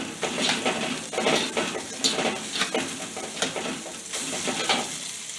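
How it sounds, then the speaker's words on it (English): Chinese sauce being stirred into stir-fry noodles in a pan, with a steady frying sizzle under repeated scraping and clattering utensil strokes, close and fairly loud throughout. "I'm going to add a little Chinese sauce to this. And I'm going to stir that in."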